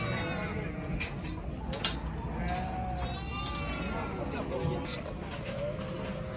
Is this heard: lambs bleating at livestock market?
yes